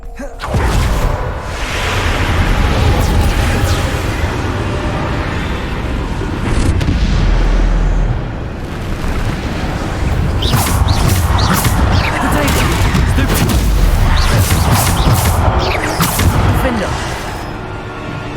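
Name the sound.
Bombarda blasting spell explosion in the video game Hogwarts Legacy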